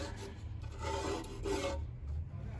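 A scraper rasps grime off the oil pan of a 1956 Ford Thunderbird: close, quiet gritty strokes, with a couple of longer scrapes in the middle.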